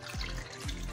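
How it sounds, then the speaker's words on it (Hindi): Water pours into a bowl of raw chicken pieces mixed with salt and vinegar, two brief splashing gushes with a rising tone, close and fairly quiet, with no voices. "पानी डाल देंगे"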